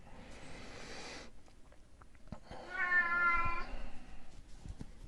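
A cat meows at home during a work-from-home weather broadcast, giving one fairly loud, drawn-out call after a stretch of softer rustling, close to the microphone.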